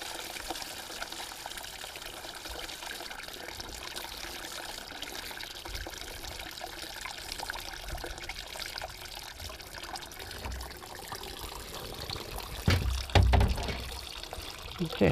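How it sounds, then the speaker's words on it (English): Water being poured out of a container outdoors while cleaning copper bullets, a steady trickling and splashing that runs throughout with a few louder sloshes near the end, with faint talk in the background. "you can go ahead and pour out some of the water towards me, just to get rid of it"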